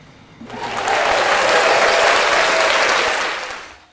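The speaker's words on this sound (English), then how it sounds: "Round of applause for figuring it out on the job." A burst of audience applause swells quickly, holds steady and loud for a few seconds, then tapers off, with no talking over it.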